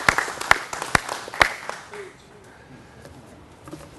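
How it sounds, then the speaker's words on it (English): A scattering of claps with a few sharp loud hits at a fire station dedication ceremony, thinning out after two seconds into light sporadic clapping and murmur. "give a round of applause for Stacy"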